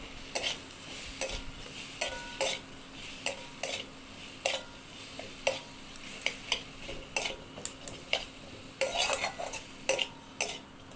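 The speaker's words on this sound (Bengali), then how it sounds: "আবারও ভালো করে কষিয়ে নিচ্ছি কিছুক্ষণ" Spatula scraping and stirring mustard paste with Kashmiri and hot chilli powder in a pan for hog plum chutney, a steady run of rhythmic metallic scrapes and clinks over a faint sizzle, close and alone.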